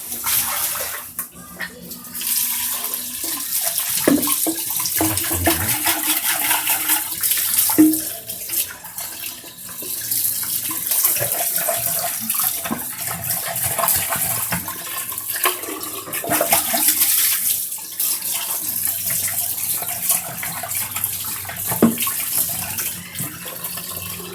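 Tap water runs and splashes steadily as a spun water filter cartridge is rinsed by hand, with the flow changing as the cartridge is moved under the stream.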